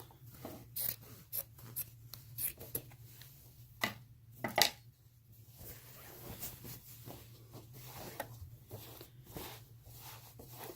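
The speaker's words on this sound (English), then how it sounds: "I'm going to come back and trim that excess fabric here" Scissors trim excess fabric along a hexi quilt border in a quiet room, with a series of soft snips and rustles at irregular intervals, a few sharper cuts in the middle.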